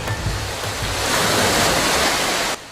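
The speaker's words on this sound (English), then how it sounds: "Northeasterly winds pushed the rolling waves westward," Waves rolling onto the Lake Erie shore at Sheffield Lake, pushed by northeasterly winds, make a loud, steady broadband wash with wind noise that builds and then cuts off abruptly.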